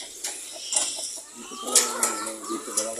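Hens and newly hatched chicks cluck and peep softly nearby in a few short calls scattered across a quiet moment, with a person speaking faintly in the background.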